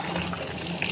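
Meat stock from earlier cooking is poured into a pot of Delhi-style aloo gosht, a brief steady splashing pour heard close and alone.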